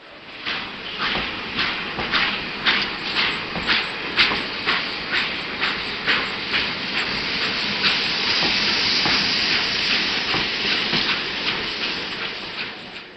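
A live steam garden railway model train chuffs along at a train show, its rapid, evenly spaced exhaust beats over a steady hiss that swells into a continuous rush toward the end.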